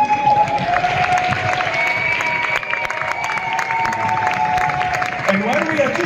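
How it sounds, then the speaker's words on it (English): A demoparty crowd at Revision 2024 applauds award nominees and laureates in a sustained, dense wash of clapping and cheering over a steady tonal background, with some talk mixed in. "Please make some big applause for all our nominees and laureates this year."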